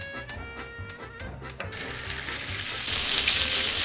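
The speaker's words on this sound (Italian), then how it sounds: "E ora bisogna friggerle. 2 padelle, olio." A few sharp clicks, then a loud, bright crackling sizzle of meatballs frying in hot oil in a pan that swells and keeps going.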